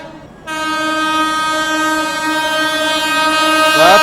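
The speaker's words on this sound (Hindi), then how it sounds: "ये निकल गई दोस्तों आप लोगों की गया नई दिल्ली महाबोधि एक्सप्रेस" The Gaya–New Delhi Mahabodhi Express passes at high speed, blasting a loud, sustained, multi-tone horn over the rumble of the rails, close and with no talk.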